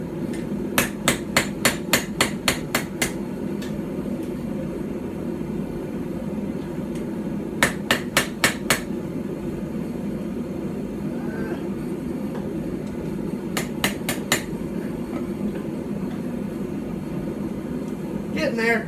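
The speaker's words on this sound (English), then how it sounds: "getting a knife flat on this tiny anvil is gonna be a job" A knife blade is hammered flat on a tiny Anglo-Saxon or Viking-style stump anvil. Crisp metallic blows land in rapid clusters of several strikes, separated by long gaps filled with a constant roaring background.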